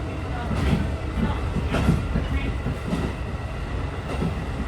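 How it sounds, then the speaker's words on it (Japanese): A JR Kyushu train runs steadily along the rails, a continuous rumbling drone with soft rhythmic wheel clatter from inside the carriage, moderately loud throughout. "列車は順調に進行中"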